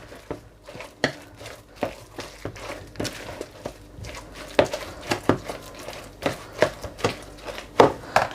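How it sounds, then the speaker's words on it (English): Onions being broken apart and mixed by hand into pakora batter with spinach and potatoes, giving a run of close, irregular wet taps and squelchy knocks against the bowl, no voices. "Just make sure you break the onions up so they all sort of like come apart."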